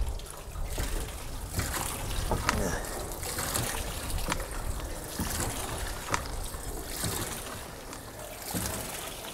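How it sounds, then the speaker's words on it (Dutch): Steady splashing and gushing water pumped into a wheelbarrow, continuous and fairly loud, with occasional knocks and clunks over the flow. "dan pomp ik hem vol met water"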